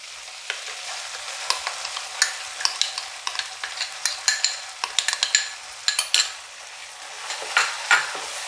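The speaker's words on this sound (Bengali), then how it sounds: "এবার নারকেল বাটার সঙ্গে মশলাটাকে খুব ভালো করে কষাতে হবে।" Spice masala with coconut paste is stir-fried in a pan for paneer malai curry: a spoon scrapes and taps in quick irregular strokes over a soft continuous sizzle, with no talking.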